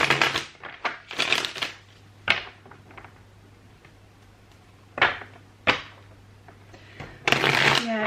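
Tarot cards are shuffled in several short bursts of riffling and flicking, close up, with quiet pauses between them and a faint steady hum in the background.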